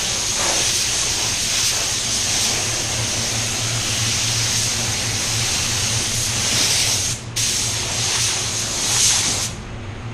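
Spray coat hissing steadily from an aerosol or spray gun onto raw plastic, a continuous close hiss broken by one brief pause near the end.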